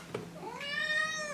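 A pet cat gives one clear, drawn-out meow with a rising then falling pitch, close and fairly loud, preceded by a brief soft sound.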